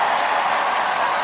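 Studio audience applause at an Australian Gladiators television taping, a steady, dense wash of clapping that holds at an even level throughout.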